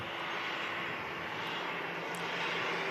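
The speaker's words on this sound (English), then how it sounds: "the Cathay Pacific is going to be the next aircraft to depart back to Hong Kong" A Cathay Pacific Airbus A350 departs on a foggy day at Manchester Airport, its jet engines giving a continuous broad roar that holds steady and loud throughout, with no voices over it.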